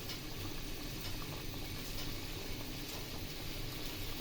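Beef tripe boiling in a pot of water gives a steady, dense bubbling hiss that stays even and unbroken throughout, close but soft, with no voices.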